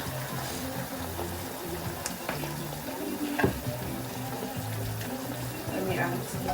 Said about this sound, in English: go ahead and start adding your mackerel to the pot